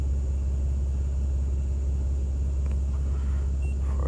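A 2008 Dodge Sprinter van in limp mode drives along, heard from inside as a steady loud low engine and road rumble without a break.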